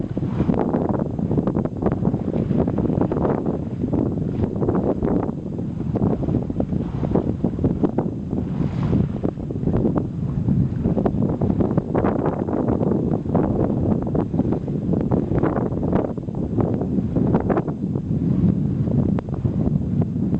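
Wind buffets a sailing trimaran and the microphone, a steady loud roar with gusty surges and rustling across the whole stretch, no speech over it.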